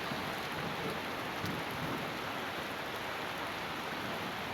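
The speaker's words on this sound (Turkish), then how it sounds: "gerçekten çok güzel yağıyor" Steady, heavy rain pours down continuously, a dense hiss of drops with no voices and no pauses.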